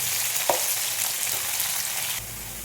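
Sliced onion sizzles steadily in hot oil with ginger and garlic, cooking for a potato soya roast, a soft continuous frying hiss with a small clink near the start.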